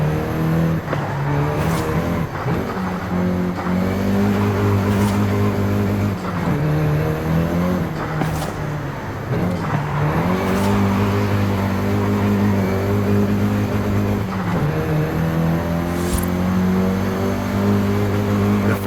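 Volkswagen Golf GTI engine in Forza Horizon 5, a steady loud drone with rising and falling revs through gear changes, continuous throughout with no talk.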